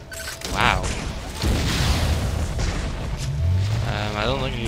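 Weapon fire in Metroid Other M, repeated loud booming blasts and zapping bursts in quick succession with mechanical clanks, dense and close throughout.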